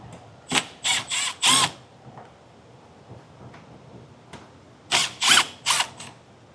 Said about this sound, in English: And then we have some Phillips screws to remove.